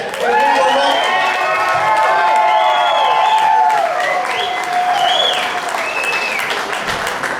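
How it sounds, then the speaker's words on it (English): A loud crowd at an evening general meeting screams, cheers and applauds together for several seconds, with high whoops and shouts rising over dense, sustained clapping. "I'm sure everyone that hurts giving a nice loud scream here for Mike."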